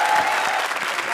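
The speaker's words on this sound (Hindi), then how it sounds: "जोरदार तालियां।" Brief, loud burst of audience applause at a televised Indian comedy show, thick continuous clapping from a large crowd.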